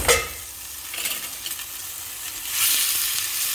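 Soy sauce sizzles in a pan of ampalaya and minced pork, a soft steady frying hiss with a few stirring scrapes, swelling louder toward the end; no talking.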